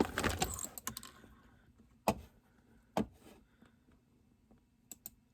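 Keys on a computer keyboard clatter as cross-stitch items are leaned against it, giving a dense burst of clicks at first, then a few sharp isolated presses spaced a second or so apart, close and fairly quiet.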